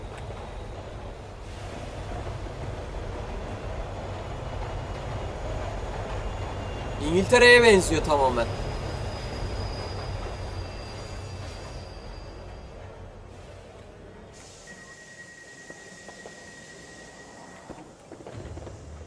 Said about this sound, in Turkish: Buradan gelmesi gereken tren bu taraftan geliyor.